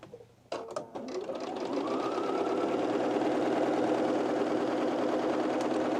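A sewing machine runs steadily and loudly for several seconds while stitching the bottom hem of an oversized plus-size blazer, starting after a few brief clicks.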